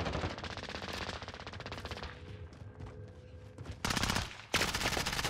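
Rapid bursts of automatic gunfire in the Call of Duty Warzone video game, loud, dense machine-gun volleys with a short lull before two more sharp bursts near the end.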